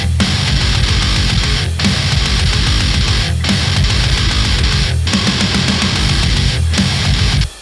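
Heavy metal drum beat with open crash cymbals, a kick locked to palm-muted guitar, and a snare, pounding loud and dense in repeating bars with brief breaks, ending abruptly.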